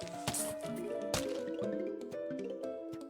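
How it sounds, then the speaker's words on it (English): A melon lobbed onto a zombie in Plants vs. Zombies gives a soft, wet squish and splat, with quick drippy hits repeating over light game music. "put a melon there, just because he'll splash down onto that zombie"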